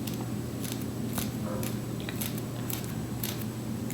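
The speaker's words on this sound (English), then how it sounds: "Take my scissors, cut it again." Scissors snipping through the hair of a red curly glueless wig during an install, a few soft, quick clicks over steady low background hum.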